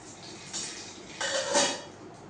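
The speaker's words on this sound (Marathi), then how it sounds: "मोहरी छान तडतडली आहे." A spoonful of mustard seeds crackles and spits in hot oil in a wok, a close, hissing sizzle that swells into brief popping bursts.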